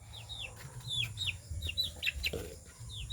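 Chickens cluck and chirp in short, high bursts near the listener over a low background rumble, several calls scattered irregularly.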